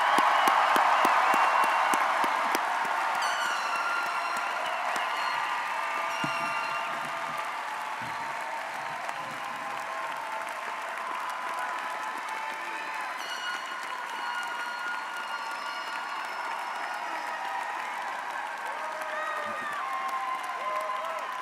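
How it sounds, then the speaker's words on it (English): Audience applause for graduates at a university spring commencement ceremony: sustained dense clapping from a large crowd, loudest at first and then holding steady, with a few faint cheers. "let's give a round of applause for all these graduates."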